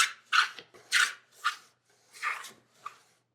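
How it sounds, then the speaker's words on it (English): A hand plane shaves a wood piece for a drawer bottom in six quick, crisp swishing strokes, close and fairly loud, with short silent gaps between passes. "you just keep planing until it stops cutting wood."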